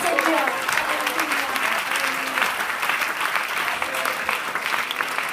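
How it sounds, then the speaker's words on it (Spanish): Church congregation applauding loudly, a dense, sustained wash of clapping with a voice or singing faintly audible beneath it near the start. "Démosle un aplauso al Señor Jesucristo"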